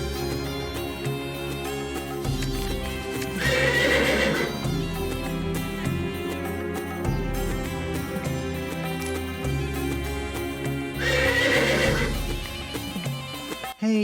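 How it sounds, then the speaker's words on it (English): A horse neighs loudly twice, long shrill whinnies several seconds apart, over a dense background of music. "Calm down, you damn horse."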